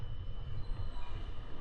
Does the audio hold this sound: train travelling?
yes